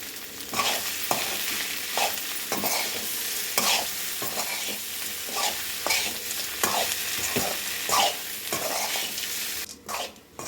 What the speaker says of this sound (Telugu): ఇప్పుడు ఇడ్లీ ముక్కలు వేసేసుకుందాం కొత్తిమీర వేసుకుందాం